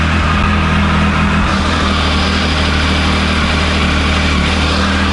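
A Triumph Tiger 955i motorcycle engine idles steadily and loudly up close right after starting, following a major cylinder head gasket repair, with a constant low throbbing rumble and no talking.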